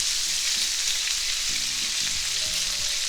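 Two pounds of beef browns in a pan over medium-high heat, giving a steady, close frying sizzle throughout, with a few low clanks and scrapes near the end.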